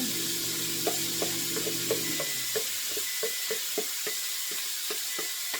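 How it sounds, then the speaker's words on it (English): Vegetables and mini corns hitting hot oil in a chicken stir fry, breaking into a steady bright sizzle with light rhythmic stirring taps against the pan. "We're going to dump all our veggies in."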